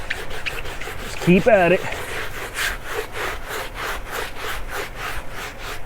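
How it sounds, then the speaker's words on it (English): A brush scrubs a Copart Cadillac CTS by hand in quick, rhythmic back-and-forth strokes that stay close and steady throughout, while someone briefly speaks over the rubbing. "when you feel like you've done a sufficient job of scrubbing"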